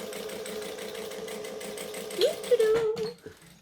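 A sewing machine chain stitches fabric for a wristlet, a steady close mechanical hum with a rhythmic needle beat running throughout, briefly overlaid by a voice before the motor winds down.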